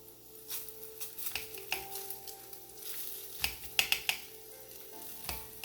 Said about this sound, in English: I'm going to lay the banana in here, kind of space them out like that to let them cook.